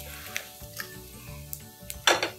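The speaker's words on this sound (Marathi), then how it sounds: "जो मसाला तयार करून घेतलाय तो आपण फ्राय करूया" Ground masala fried in a pan after Bombay duck fish, a quiet sizzle with light scrapes of a spatula and one louder stir near the end.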